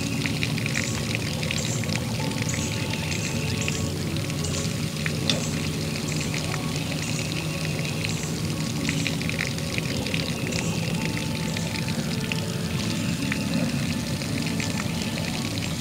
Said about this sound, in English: It's disengaged because the water free flows. It's artesian water.